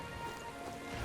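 Steady rain falls in the video game Metaphor: ReFantazio, a faint, even hiss of drops with no voices.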